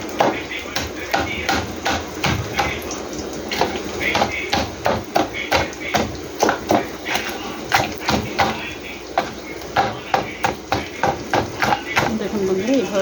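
Katla fish heads being broken apart in a pan, a long run of sharp, fairly regular knocks and thuds close by, with some faint talk near the end.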